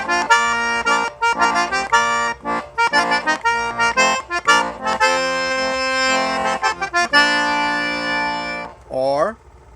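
Two-row Cajun accordion with the bass row shut off, dry-tuned, playing a lively chordal tune of choppy bellows pulses and sustained reedy chords, loud and close, ending in a short bending squeeze.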